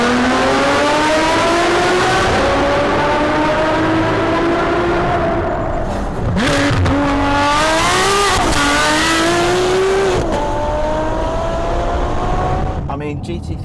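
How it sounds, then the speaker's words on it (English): A Ferrari 599 GTO's 6-litre V12 revs loudly and close, its pitch climbing and falling through several sweeps with brief breaks between, while someone talks over it. "How do you describe a 6-litre V12 that produces 661 horsepower and sounds like this?"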